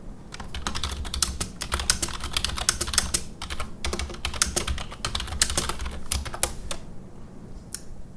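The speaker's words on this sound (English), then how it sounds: "Now this is just typing a random phrase in Notepad, so this is kind of like a normal situation." Steady typing on a Leopold tenkeyless keyboard with Cherry MX Brown switches, a normal phrase entered in Notepad: dense, fast runs of close clicky keystrokes with brief pauses, heard alone, tapering off near the end.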